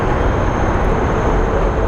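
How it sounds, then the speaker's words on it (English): Loud, steady broadband roar of a large airliner at Phoenix Sky Harbor International Airport, a continuous near jet noise with no breaks and no talking. "It's a big plane."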